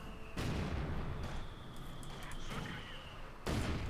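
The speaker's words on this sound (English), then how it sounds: "Mortar fire down there." Mortar fire in the World War II strategy game Company of Heroes 2: several booming launches and impacts burst in quick succession amid ongoing battle noise, moderately loud.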